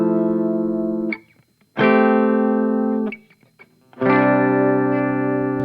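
Electric guitar played through a Line 6 POD Go on the Archetype clean preset: three sustained chords ring out bright and full, each fading into a short pause before the next strum.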